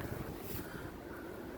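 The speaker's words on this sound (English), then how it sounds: "crazy windy day" Gusty wind roars and buffets close by, a continuous rumbling rush with no voices present.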